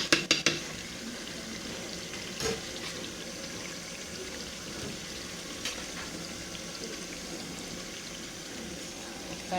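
Water, including stockfish water, is poured into a pot for vegetable stew, a steady splashing stream with a few sharp clinks at the start, close and moderately loud.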